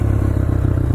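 A Honda CRF125F mini dirt bike rides single track, its small engine droning steadily and close with a busy, rattling low rumble throughout, no voices over it.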